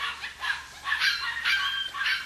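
An 8-week-old puppy gives a series of high, yappy barks and yips in quick bursts, close and fairly loud, with no talking over them.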